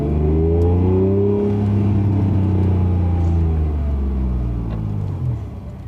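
An early Honda NSX revs hard, a loud close engine note whose harmonics climb and then slowly fall back as it eases off, with no voices over it.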